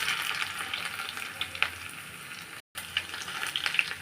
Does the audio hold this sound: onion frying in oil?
yes